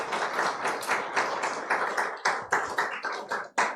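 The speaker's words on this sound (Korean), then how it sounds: "우리 다 같이 박수로 우리 축하하겠습니다" A church congregation applauds a bride and groom at a Korean Sunday service, a lively stretch of many hands clapping with uneven bursts that taper off near the end.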